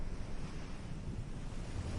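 Gentle ocean waves wash in a soft, continuous surf hiss, faint and even, with some wind buffeting the microphone and no voices.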